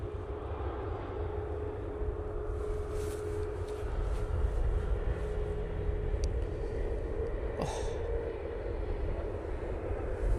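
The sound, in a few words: airliner at Manchester Airport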